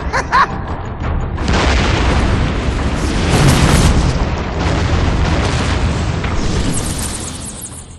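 A sustained explosion rumbles through a scene in the video game Batman: Arkham Origins Blackgate, loud and dense for several seconds with crackling debris before slowly fading, with no voices.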